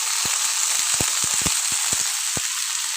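Cauliflower and potato pieces fry in hot oil in a pan with a loud, steady, bright sizzle. Scattered low pops and crackles burst through the hiss. No voices.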